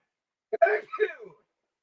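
A single sharp human sneeze indoors in a camper, a quick two-part burst close to the microphone, standing alone in otherwise silent surroundings.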